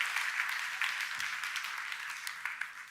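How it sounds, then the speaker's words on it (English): A church congregation at a Sunday service claps and applauds, a dense, continuous wash of many hands from a large crowd, sustained and fairly loud throughout. "let's give it up for kids ministry and thank them"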